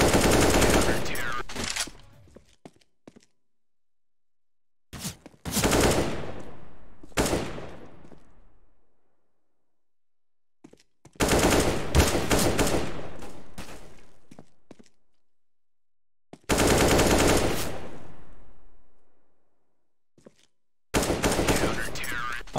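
An AK rifle firing in a video game, with several loud bursts of rapid automatic fire separated by silent gaps, each burst followed by a fading echo.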